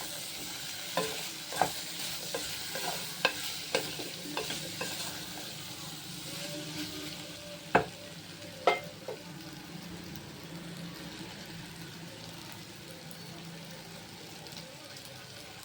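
Potato curry being stirred in a frying pan: a soft background sizzle with scattered spoon scrapes and clicks, a few sharper knocks near the middle, then calmer frying toward the end.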